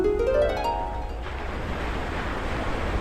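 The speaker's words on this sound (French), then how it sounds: "il y a le bruit des vagues" Steady broadband wash of surf on a beach, with a brief tonal whine fading out in the first second before the waves carry on alone.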